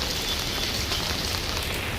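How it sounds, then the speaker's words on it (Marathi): Heavy rain pours down steadily outdoors, a dense, continuous hiss of drops striking surfaces with no pauses and no voices. "तो पाऊस पडतोय"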